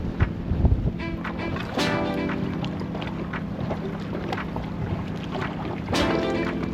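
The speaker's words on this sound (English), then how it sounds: "All right, dinghy ride into the wind." A small dinghy motors into a stiff headwind over choppy water near an anchorage, with steady wind buffeting on the microphone, engine drone and repeated slapping thumps of the hull hitting waves, loud and close, no talk.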